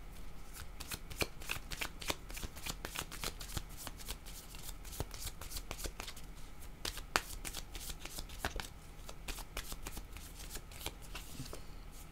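Playing cards shuffle steadily for a card reading, a continuous close riffling and sliding with dense, quick flicks and no voices.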